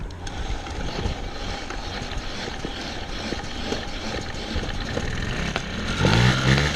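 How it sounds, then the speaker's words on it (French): A repaired Mobylette moped engine turns over and runs, a buzzy small two-stroke drone holding steady nearby and swelling louder near the end, with no talking. "Normalement ça devrait démarrer."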